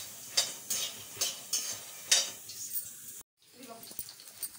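Ingredients for sugar-free dates laddu roast in a pan with rhythmic scraping strokes and a light sizzle, a brief cut of silence, then quieter stirring.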